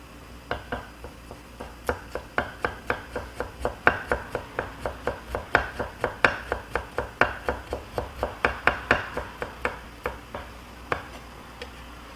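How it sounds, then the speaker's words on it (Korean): Kitchen knife slicing ginger into thin julienne strips on a cutting board, a steady, close series of crisp chopping taps at an even rhythm. "생강 채 썰어 이렇게 물에 넣어 놓습니다"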